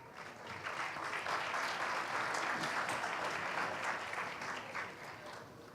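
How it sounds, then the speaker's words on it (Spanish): An audience at a conference claps steadily in a fairly quiet, even burst of applause that lasts several seconds and fades slightly at the end. "Le damos la bienvenida con un fuerte aplauso."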